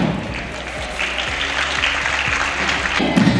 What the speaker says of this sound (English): Please welcome our Scottish band with a warm round of applause.